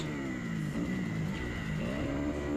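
A motocross bike accelerates hard through a corner on a dirt track, its engine a continuous buzzing roar heard from a moderate distance, steady and loud throughout.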